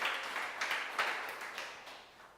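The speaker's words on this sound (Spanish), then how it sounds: "Den un aplauso a Él" A church congregation claps together in a steady, moderately loud wave of applause that gradually fades out, with no voices over it.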